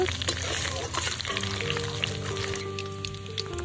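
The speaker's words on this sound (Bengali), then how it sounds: "রসুনটাকে একটু লালচে ভাব করে ভেজে নেব।" Garlic fries in hot oil with a close, steady sizzle and light stirring, under a faint tonal background hum.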